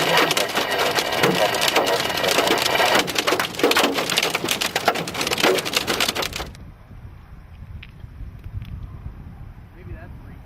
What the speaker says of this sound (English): close to 3-inch hail.